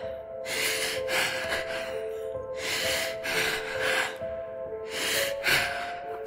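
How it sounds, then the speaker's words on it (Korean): Heavy panting of a woman catching her breath after running up a mountain path, loud close rasping breaths in uneven bursts of in and out, over a faint steady hum, with no speech. "헉헉거리며 숨을 고르고 있던 그때"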